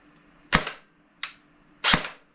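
Three sharp semi-auto shots from an Umarex Elite Force MP5 airsoft gun running on a 7.4 LiPo battery, each a crisp pop with a short mechanical tail, spaced unevenly and heard alone.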